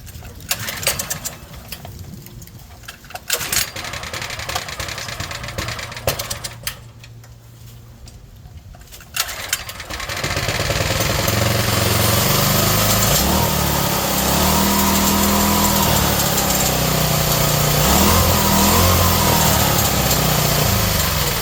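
A Coleman CT100 minibike's small single-cylinder engine runs, sputtering and lighter at first, then roaring into a steady, loud, high buzzing rev that holds for the rest of the run, close by.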